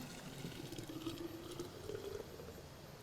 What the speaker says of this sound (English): I'm gonna pour the milk in here